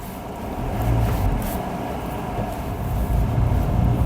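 A Hyundai Exter compact SUV with an AMT gearbox sets off on a short drive, with a steady, muffled low engine and road rumble heard from inside the cabin that rises slightly as it gets moving.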